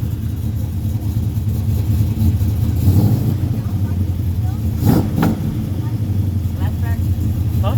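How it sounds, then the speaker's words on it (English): A 1972 Chevy truck with Flowmaster true dual exhaust revving, a deep rumbling engine that rises in bursts, with voices talking over it. "Rev it up."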